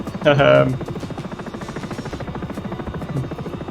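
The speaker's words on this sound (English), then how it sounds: "We're having an interesting time with this helicopter." Sikorsky S-76 helicopter in the X-Plane 11 flight simulator, a rhythmic rotor thump with buzzing engine whine, a brief louder burst near the start, then steady pulsing chop.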